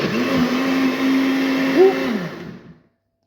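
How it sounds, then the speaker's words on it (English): A kitchen blender whirs steadily as it purées chickpeas with cream for butter chickpeas. The loud motor hum climbs briefly in pitch near the end, then cuts off and winds down to silence. "let's blend the thing now."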